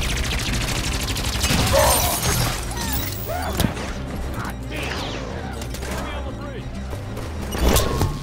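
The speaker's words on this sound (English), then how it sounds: "Where'd that shot come from?" Gunfire in Halo 5: Guardians, with dense bursts of shots, mechanical clatter and impacts rattling continuously through a loud firefight, with a few louder cracks standing out.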